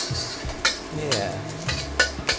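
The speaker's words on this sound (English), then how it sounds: "We're basically gonna caramelize some shallots" Shallots stir-fry in a hot pan with a soft steady sizzle, broken by several scraping stirs of a utensil against the pan at close range.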